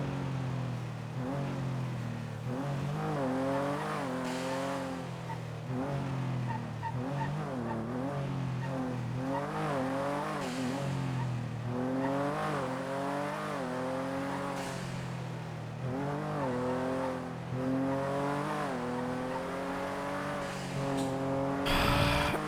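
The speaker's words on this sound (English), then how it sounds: "Not gonna lie, I enjoyed driving this Penumbra today." A Penumbra sports car driven in a video game, its engine rising and falling through repeated revs and gear shifts, loud and steady from start to finish with no talk.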